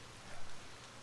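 Steady rain falls in an even, dense hiss of drops with no pauses, filling the whole short stretch at a moderate level, with no voices.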